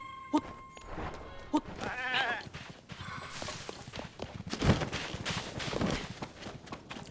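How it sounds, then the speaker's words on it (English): A goat bleats in The Legend of Zelda: Tears of the Kingdom, a few short quavering calls amid game footsteps, clip-clop sounds and ambient effects, fairly quiet, with a person talking at times. "You know a person did the sound of that, that goat."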